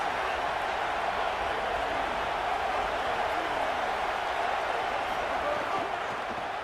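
Home stadium crowd at an American football video game match, a constant dense roar of noise filling the background evenly, steady and loud throughout with no distinct cheers.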